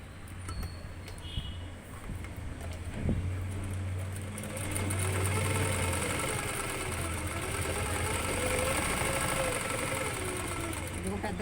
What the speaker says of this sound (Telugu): ఇది ఇలా కిందకి పెట్టుకుంటే దగ్గర వస్తుంది కుట్టు